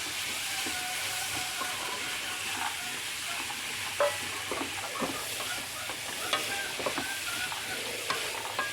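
Green peas and garam masala are stirred into a Kerala-style vegetable kuruma frying in a pan, giving a steady sizzle with irregular scraping and stirring clicks, close and alone.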